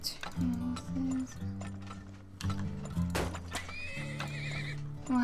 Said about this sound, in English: 2 horses.